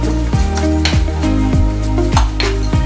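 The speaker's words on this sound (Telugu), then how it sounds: "ఇప్పుడు దీనిలో 2 స్పూన్లు కారం, కూరకు సరిపడా ఉప్పు వేసి కలుపుకుంటాం." A spoon stirs chili powder and salt into sizzling fried onions for Nellore-style fish curry (chepala pulusu), with steady scraping and frying crackle and repeated clanks against the pan.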